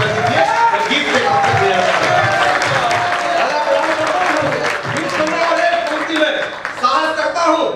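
Audience applause at a Jaipur poetry gathering, a dense, sustained wash of clapping from a large crowd that carries loudly throughout, with a voice over a microphone audible on top.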